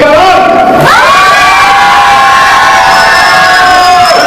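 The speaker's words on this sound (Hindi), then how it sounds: "आज इनके सामने आपको चिल्लाने को मिल रहा है" Children shout and cheer in a large crowd at a New Year 2022 media awards event honoring journalists and social workers, a loud, continuous roar of excited voices with rising whoops.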